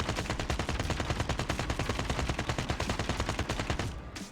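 Rapid automatic fire from an AK rifle in Call of Duty Mobile, a loud continuous burst of evenly spaced shots for about four seconds that cuts off abruptly at the end.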